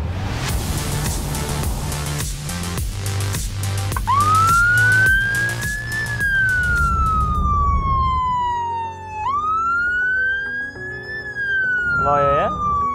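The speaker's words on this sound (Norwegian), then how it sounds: "Hvis du ser i speilen din nå, så får vi noe utrykning bak oss her." A Norwegian police car siren approaches from behind on a country road, loud and close, its wailing tone sweeping up and down over a rapid pulsing yelp and road noise.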